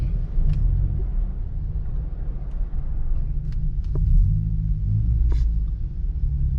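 A Honda City car rolls slowly into an auto shop near a highway, its engine a low, steady rumble close by with no revving and a few faint clanks around it.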